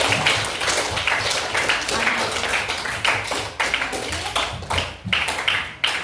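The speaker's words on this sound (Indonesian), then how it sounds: "Oke, tepuk tangan untuk kita." A classroom of middle school students applauds loudly and close by, a dense rapid clatter of many hands that thins toward the end, with faint voices mixed in.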